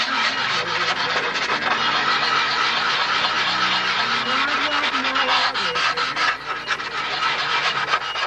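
Sanding wood by hand with a sanding block to remove the thickness of masking tape, a continuous close rough rasping scrub with rhythmic back-and-forth strokes, loud and steady throughout.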